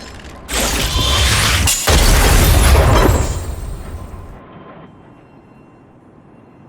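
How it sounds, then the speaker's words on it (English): A loud, broad explosion in a video game booms in with a sharp onset, rumbles heavily for a couple of seconds, then fades into a long decaying tail. "We wiped them all out in a single explosion!"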